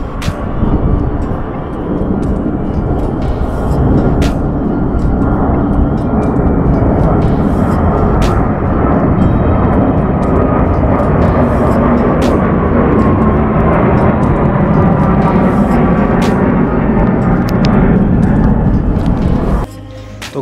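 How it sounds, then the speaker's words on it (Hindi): A jet airplane roars loudly and continuously after taking off near Leh in Ladakh, a broad, unbroken engine rumble for about twenty seconds with occasional sharp clicks over it. "सामने हवाई जहाज उड़ रहा है,"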